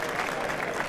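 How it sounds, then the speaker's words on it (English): Squash crowd at the SJP Canary Wharf Classic applauding after a game, a short, dense burst of steady clapping without pause. "Crowd will erupt though if he can convert"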